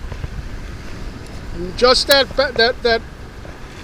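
Strong wind buffets the microphone at the water's edge while baitcasting with an Abu Garcia Ambassadeur reel, a steady rushing roar throughout with someone briefly speaking over it.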